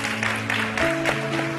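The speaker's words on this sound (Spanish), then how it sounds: "Fuerte el aplauso para Sirey, para Daniela" A television beauty pageant audience claps for contestants Sirey and Daniela, a steady burst of applause mixed with sustained background music tones.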